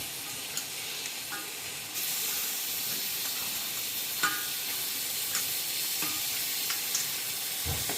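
Native country chicken frying in masala in a village-style kitchen pan, sizzling and hissing steadily with occasional stirring scrapes and clinks, no talking.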